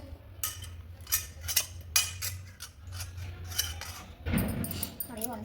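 A spoon clinking and scraping against a dish while liquid is mixed, making a series of quick metallic clinks and taps close by, with a voice talking faintly in the background.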